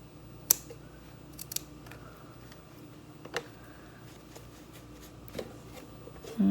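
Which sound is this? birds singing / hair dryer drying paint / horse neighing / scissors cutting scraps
scissors cutting scraps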